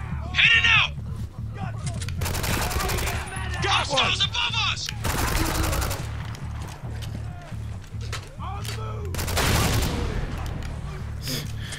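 Explosions and bursts of gunfire from the video game Spec Ops: The Line crackle in rapid volleys with sharp booming blasts, loud and continuous, while voices talk over the action.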